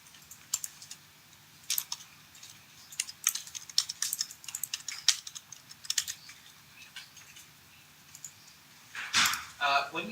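Quiet, irregular keystrokes on a computer keyboard come in quick clusters separated by short gaps, with a slightly louder clatter near the end.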